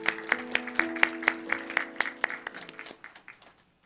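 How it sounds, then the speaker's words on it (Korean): Audience claps in a church youth service to welcome a piri performer, a sparse, rhythmic round of hand claps that thins out and stops near the end. "박수로 함께 초청해 주셨으면 좋겠습니다"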